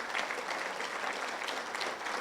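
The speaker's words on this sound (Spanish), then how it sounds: "Démosle un fuerte aplauso al Señor." Sustained applause from a congregation during a Spanish-language Christian sermon, a steady wash of many hands clapping at moderate volume with no speech over it.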